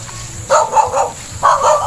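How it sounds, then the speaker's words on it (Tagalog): Two dogs bark in two loud, close bursts of several quick barks each, separated by a short pause. "Tapang ng dalawang aso."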